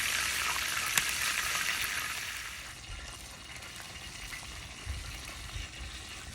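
Catfish frying in a skillet on a rocket stove, a steady close hiss and crackle of hot oil that stays even throughout, with a few low bumps and no talking.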